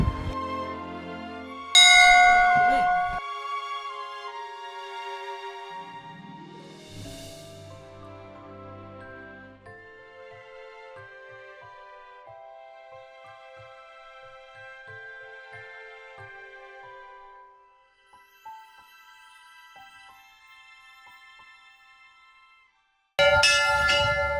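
Metal temple bells at the Golu Devta (Ghorakhal) temple in Uttarakhand are struck loudly, each strike leaving a long, shimmering ring that slowly fades before another loud strike near the end.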